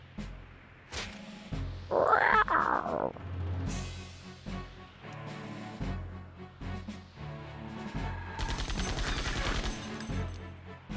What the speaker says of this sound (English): Of the generic cat sound in the background.